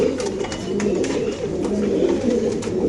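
A male pigeon for sale, a BRPFC racer, coos in a steady low murmur close by, alongside other pigeons in a loft, with continuous soft overlapping calls and no voices.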